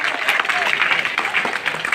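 An audience claps at a school annual function and donor-honouring ceremony in Chhapar, giving dense, continuous applause with scattered louder claps and a voice faintly present beneath it.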